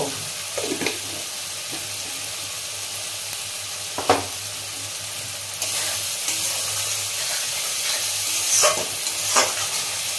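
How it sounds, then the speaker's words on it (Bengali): Spice paste for a Bengali fish kalia fries in oil in a pan. A continuous close sizzle runs under repeated spatula scrapes and stirring knocks, with no one talking. "আমার মশলাটা ভাজা হয়ে গেছে"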